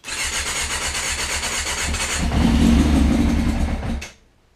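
Engine revving steadily with the exhaust fitted during break-in, a loud close drone that rises and thickens midway before cutting off abruptly at the end.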